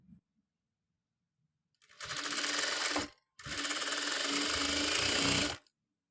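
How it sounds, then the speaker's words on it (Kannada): A sewing machine stitches dori, a thin fabric cord for the front of a long designer gown, in two steady, loud bursts of about a second and two seconds, separated by a short pause. "ಡೋರಿಗೋಸ್ಕರ ನಾನು ಈ ಥರ ಡೋರಿನ ಸ್ಟಿಚ್ ಮಾಡ್ಕೊಳ್ತಾ ಇದ್ದೀನಿ"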